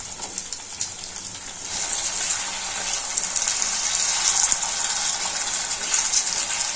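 Brinjal frying in oil in a pan for a tamarind-leaf brinjal fry, a constant close hiss that swells slightly after the first two seconds, with scattered soft pops and no voices.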